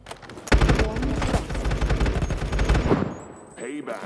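Sustained bursts of rapid automatic fire from a light machine gun in a futuristic mobile first-person shooter game, loud and dense for a few seconds before breaking off into a brief quieter tail.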